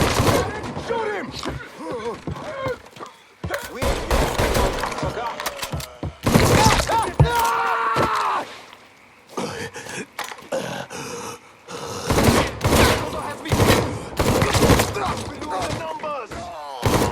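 Gunfire from a shootout in the video game Mafia 3, loud bursts of shots and impacts packed in clusters with brief pauses, mixed with grunts and shouted voices throughout.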